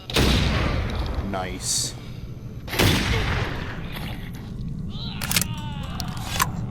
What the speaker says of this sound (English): Let's switch to my Sawn off shotgun.